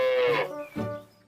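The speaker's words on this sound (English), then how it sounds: "There was Gertrude the duck and Daisy the cow" A cartoon cow on a farm gives a single loud, close moo lasting just over a second, with a falling pitch and a short second swell near the end.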